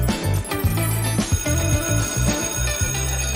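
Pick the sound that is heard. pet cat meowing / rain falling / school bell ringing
school bell ringing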